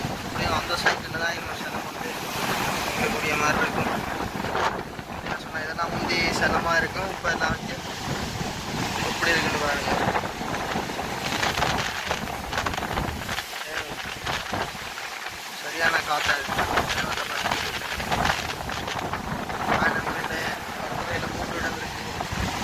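Strong wind gusts across a beach near Point Pedro, a loud, continuous buffeting rush against the microphone mixed with surf, while a person talks over it throughout.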